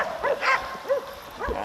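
Hunting dogs bay and yelp in short, sharp bursts at a cornered deer in New Zealand bush, several barks close by in quick succession.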